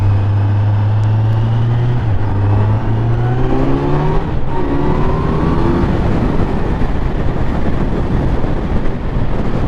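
A new motorcycle in road mode accelerates hard, its engine note rising steadily through the gears with a brief dip at a shift, loud and close with wind roar building.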